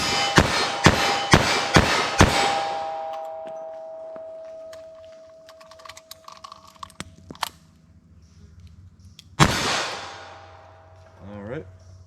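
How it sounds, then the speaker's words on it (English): A .38 Special +P revolver fires a rapid string of six loud, sharp shots at an outdoor range, followed by quieter clicks and handling of a reload, then one more sharp report after a pause. "So I'm going to fire 6 shots, do a reload, and then fire one more with both of these"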